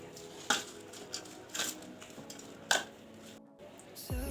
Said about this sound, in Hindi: अब हम इसको अच्छे से मिक्स कर लेते हैं। चम्मच से कर लें, हाथ से कर लें